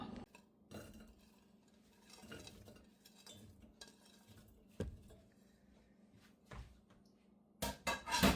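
Frozen drumstick (moringa) pieces clatter into a pressure cooker in a home kitchen, a series of scattered knocks and clinks against metal with a louder rattling burst at the end, no talking.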